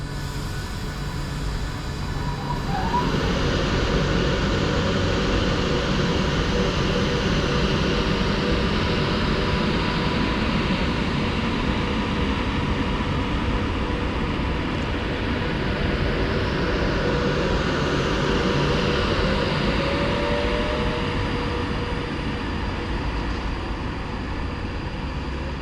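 Avanti West Coast passenger train running from Wolverhampton to London Euston passing through Birmingham International station on the West Coast Main Line, a loud broad rushing roar that builds quickly and holds steady close by, with no talk.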